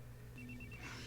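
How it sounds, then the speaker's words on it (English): A telephone in a TV drama rings faintly with a short trilling burst under a loud, steady background hiss and low hum. "Phone ringing."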